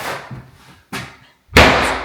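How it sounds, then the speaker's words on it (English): Doors slam inside a large house under construction, three sharp, loud bangs each ringing out briefly in the bare rooms, separated by short pauses. "We're just slamming doors"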